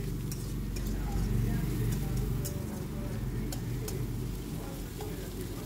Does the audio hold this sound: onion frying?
yes